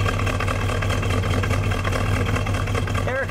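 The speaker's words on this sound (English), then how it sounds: "Let me get a little exhaust note." The 454 V8 engine of a 1970 Chevrolet Chevelle SS convertible idles with a deep, steady rumble, loud and close throughout, with a brief voice at the very end.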